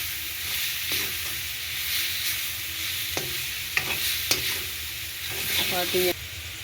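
Spiced mixture with chili powder and turmeric sizzling steadily in a pan while a spoon stirs it, scraping clinks landing every second or so over the constant frying hiss.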